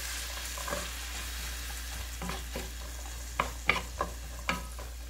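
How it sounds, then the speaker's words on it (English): Shrimp fried rice sizzles and simmers in a pan, with a steady low frying hiss and a few scattered stirring scrapes and clacks later on, close and fairly quiet. "we're going to let this cook and simmer"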